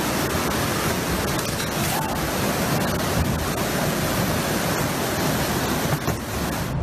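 Floodwater surges through a flooded street at a residential condominium in São Caetano do Sul, São Paulo, a steady loud broadband rush with no breaks throughout.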